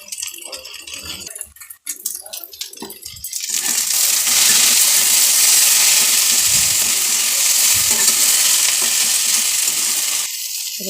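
Okra (bhindi) frying in a pan with salt and turmeric sends up a loud, steady hiss and sizzle that swells after a few seconds of scattered clatter and stays close and continuous.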